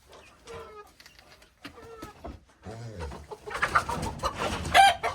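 Chickens clucking and squawking at a farm where new hens are being bought, scattered calls at first, then a denser, louder flurry of clucks and a rooster-like crow near the end.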